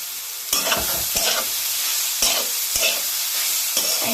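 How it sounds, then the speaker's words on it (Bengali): Khesari greens frying in a wok, a loud continuous sizzle broken by repeated scraping stirs at a steady rhythm, close up and with no talking. "আপনারা এই কড়ার মধ্যে শাকটাকে দিয়ে ভেজে নেবেন ভালো করে ভেজে নেবেন"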